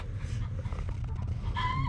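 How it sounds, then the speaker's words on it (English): Backyard hens cluck and squawk after laying an egg, a few close, moderately loud calls in quick succession with a higher crowing-like note near the end. "So the chickens always announce when they laid an egg."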